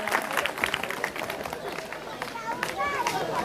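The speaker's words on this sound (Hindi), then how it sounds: "तालियों के द्वारा स्वागत किया जाए।" Applause from villagers at an outdoor Republic Day celebration in a village, brisk clapping with crowd chatter and children's voices mixed in, steady and fairly close throughout.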